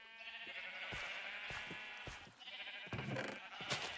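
Several Minecraft sheep bleat in a burst of overlapping, wavering calls, fairly close and clear, with short gaps between cries and no talking.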